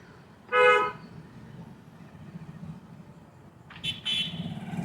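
A single short car horn toot rings out near the start, followed later by a couple of brief higher-pitched honks over steady road rumble during on-street driving, with a tanker lorry nearby.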